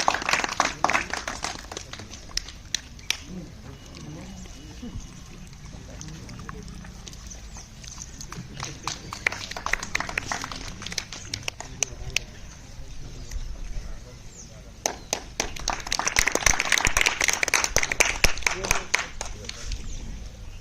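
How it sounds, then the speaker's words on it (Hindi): Audience clapping at a flag-hoisting ceremony at a residential primary school, rising into a dense, sustained round of applause near the end, with a voice speaking over the earlier part. "जोरदार तालियां साहब"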